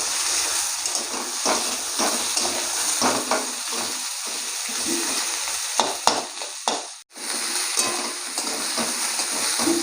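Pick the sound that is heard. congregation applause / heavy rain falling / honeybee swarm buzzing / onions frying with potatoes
onions frying with potatoes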